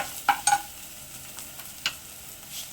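Turmeric powder and spices stirred in a frying pan: a few light, sharp clicks of a spoon against the pan over a faint, quiet sizzle, with sparse strokes and no talking.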